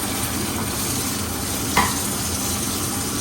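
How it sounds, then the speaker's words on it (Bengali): Shrimp sautéed with coconut milk in a pan gives a steady, loud sizzle with continuous stirring and one brief scrape of a spatula, close up and with no voices. "এখানে চিংড়ি মাছ কিন্তু আমি একটু কষাই করছি এখন এর ভিতরে আমি নারকেল দুধ দিই"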